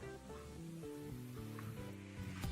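Grated coconut and sugar sizzle steadily in a pan, a continuous close frying hiss with faint stirring scrapes and no voices.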